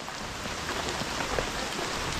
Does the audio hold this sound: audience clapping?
no